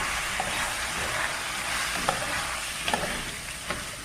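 Lentils, rice and vermicelli stirred together in a cooking pot, giving a steady soft scraping and sizzling hiss with a few faint clinks of the spoon, close and even throughout.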